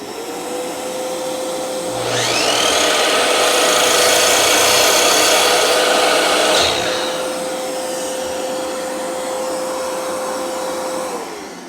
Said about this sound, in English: So let's turn on the dust extractor.